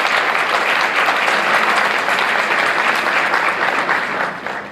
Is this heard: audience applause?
yes